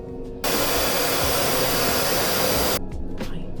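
A hair dryer blows loud and close, switching on abruptly and roaring steadily for a little over two seconds before cutting off, with quieter handling noise around it.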